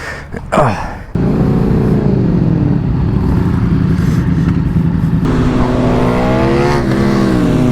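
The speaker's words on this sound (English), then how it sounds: "Look at how beautiful that bike is. Warming up the tires, smart." A motorcycle rides on a canyon road to warm up its tires. A brief revving burst comes first, then the engine drones steadily and loudly close by, with gear-shift pitch changes partway through.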